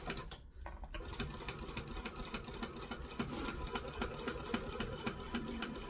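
A sewing machine stitching a seam back and forth while sewing a kangaroo soft toy, running steadily and close with rapid even needle clatter throughout, briefly softer at the start.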